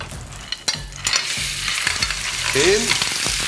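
Clams and garlic hit a hot pan as part of a sherry vinegar steamed clam dish, giving a steady close sizzle with rattling, clattering shell sounds and stirring, with no talking.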